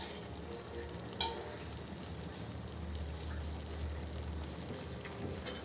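Tomatoes being stirred into a pan of half-cooked chicken curry: a soft, steady scraping and faint sizzle that runs continuously with one sharper knock of the spoon, close by, with no talking.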